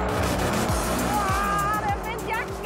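V8 convertible sports car accelerating hard with the tyres losing traction, rapid upward engine sweeps through successive gears and a faint tyre whine, heard loud and continuous.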